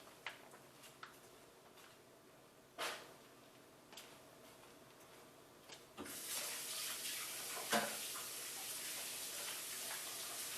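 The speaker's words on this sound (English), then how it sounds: "I'm going to give my hands a nice little wash." Hands being washed under a running kitchen tap, a steady hiss of water starting partway through and continuing to the end, after a few faint clicks and knocks, fairly quiet and close.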